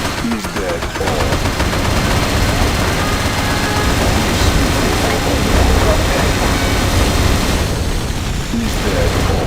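Battle gunfire in the Command & Conquer Generals game during a China skirmish: dense, rapid machine-gun bursts and scattered booms form a loud continuous barrage, with game voice announcements mixed in.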